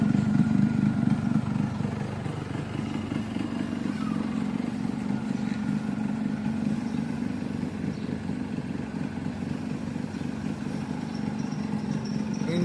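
A Japanese Yamaha RXS 115 motorcycle with a rebuilt engine, running on reserve fuel, idles steadily and close up with a continuous mid-pitched putter and light mechanical clatter throughout.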